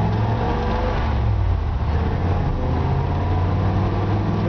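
A 1954 Ford F-100 pickup truck drives along with a steady, strong low engine rumble and continuous road noise, close and loud throughout with no talking.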